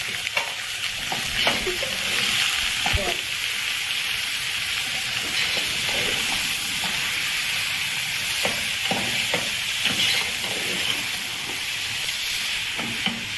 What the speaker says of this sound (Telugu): ఇది బాగా ఫ్రై అయినాక మటన్ పీసెస్ వేసేసుకోవాలి